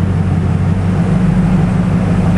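A 1,000-horsepower LSX V8 fitted with an X Ram intake idles near 700 rpm, a close, steady, deep rumble heard alone.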